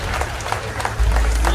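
A crowd claps to welcome a minister at a district food festival event in Harda, giving a short burst of dense, broadband applause that holds steady and swells slightly toward the end.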